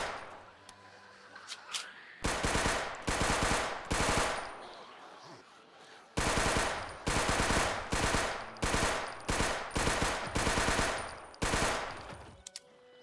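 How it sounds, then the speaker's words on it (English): Submachine gun fire in a zombie survival video game, several long rapid automatic bursts separated by short pauses, loud and sharp with clipped peaks, with no talk over it. "but I had a submachine gun"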